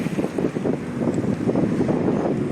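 Cold, piercing late-April wind in Yakutsk, with snow about, roars steadily as close, loud microphone buffeting and low rumble with no break, and no voices.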